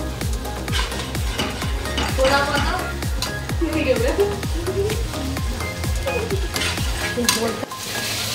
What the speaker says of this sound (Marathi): मसाला फ्राय झालेला आहे